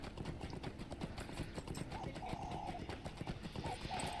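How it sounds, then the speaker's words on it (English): A horse's hooves clip-clop at a steady walking rhythm in the Lord of the Rings Online video game, quiet and continuous, with a faint voice in the background. "So we'll grab our little horsey."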